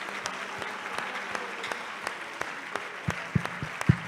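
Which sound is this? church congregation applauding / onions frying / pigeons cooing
church congregation applauding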